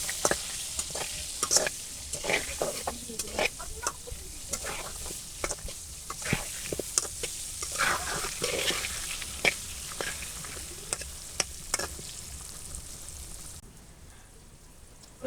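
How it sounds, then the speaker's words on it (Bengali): Pumpkin pieces frying with a little turmeric powder in a pan, giving a steady crackling sizzle with sharp scattered pops and stirring scrapes that drop away near the end. "সামান্য হলুদের গুঁড়ো কুমড়োটা সুন্দরভাবে ভাজা ভাজা করে নেওয়া হবে"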